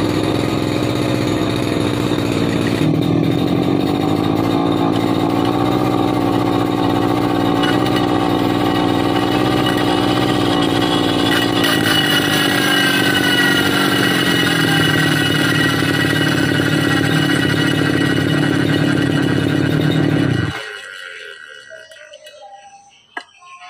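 A brush cutter fitted with a thick 2.5 mm blade runs steadily at high revs, a loud close buzzing drone that holds for about twenty seconds before cutting off and dying away.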